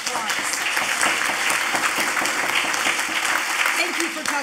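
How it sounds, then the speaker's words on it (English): Audience applause at a UCLA Law alumni event, a sustained round of clapping from a roomful of people, moderately loud, with voices mixed in. "Let's all give them a big round of applause."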